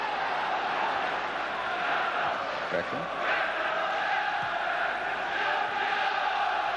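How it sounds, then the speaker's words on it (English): Football stadium crowd at Manchester United versus Fenerbahce in the 1996-97 Champions League, a steady roar of cheering and chanting under a commentator's voice, distant and sustained throughout. "Certainly the crowd are doing their best to rouse Manchester United to draw that first goal into that Fenerbahce net"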